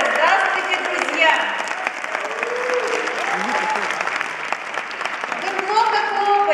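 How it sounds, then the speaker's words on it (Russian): Audience applause fills a hall at a business event, a dense sustained clapping from a large crowd heard fairly loud and close, with a voice speaking over it. "Вы много хлопаете, вы же хлопаете себе."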